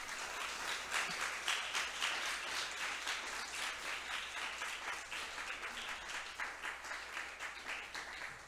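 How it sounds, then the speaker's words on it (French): A church congregation claps in a quiet, somewhat distant burst that rises and falls in gentle waves, with individual claps audible throughout. "Demandez-nous pour nous applaudir encore une fois."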